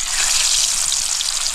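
Fish drops into hot oil in a well-heated wok and fries with a bright, steady sizzling hiss, close and continuous throughout.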